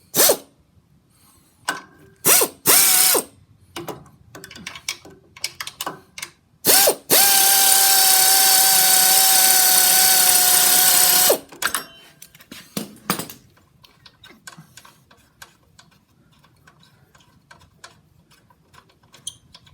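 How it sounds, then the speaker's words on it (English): An air ratchet works on the battery bolts of a 2005 Harley-Davidson Dyna Super Glide, firing in loud short bursts and one long sustained run, with faint clicks and handling noises between. "See if I can use the impact or the air socket."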